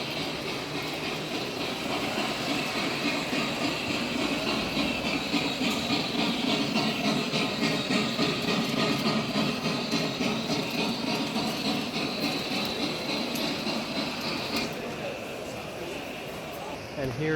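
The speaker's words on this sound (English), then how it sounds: "Ah, here comes a train." A model train rolls past at the Montreal Model Train Show, its steady hiss and clatter spreading across a busy exhibition hall and fading slightly at the end, with visitors' talk mixed in.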